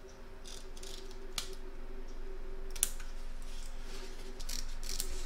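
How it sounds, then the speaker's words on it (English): Scissors cutting fabric for an in-the-hoop poinsettia bunting make a few crisp snips and clicks up close, irregularly spaced over a steady low hum. "I'm going to take my scissors and I'm cutting up at an angle towards this line here"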